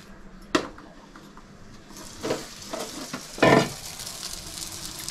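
A cheese-loaded Maharaja pizza fries in oil on a tawa with a soft continuous sizzle, broken by a sharp tap near the start and a louder burst of spattering midway.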